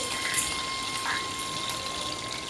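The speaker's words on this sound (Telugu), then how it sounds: "వెల్లుల్లి కరివేపాకు పటపటమంటున్నాయండి" Garlic and curry leaves sizzle and crackle steadily in hot oil as a tempering for a cabbage, pea and potato fry, a continuous hissing sputter with a few brighter pops, close and fairly quiet.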